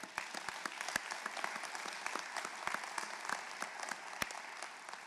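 Applause from the audience at a medical school white coat ceremony, a steady crowd clapping at moderate distance with a few sharper individual claps standing out, no talk over it.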